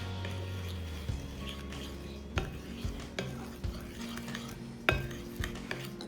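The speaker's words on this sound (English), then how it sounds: "now I'm gonna mix it" Cake batter being stirred by hand in a bowl for a vanilla cake, a spoon or whisk knocking and scraping against the sides in several distinct clinks over a low steady background hum.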